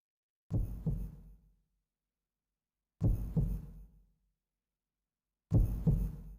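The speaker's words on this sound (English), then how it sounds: "Oh, there's a heartbeat." Heartbeat sound effect from the video game Fate/Extra CCC: three deep, muffled thumps spaced about two and a half seconds apart, each with a soft trailing decay into total silence.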